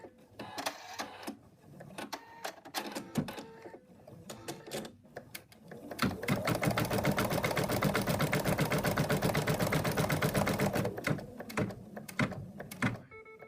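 An embroidery machine stitches out a placement line for a cat's arm. Scattered ticks and short stitching bursts give way to a steady, close, rapid run lasting several seconds before it breaks into intermittent clicks again.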